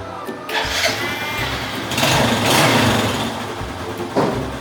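A car engine cranks and catches on its original battery, a churning start followed by a rough, rising run, loud and close.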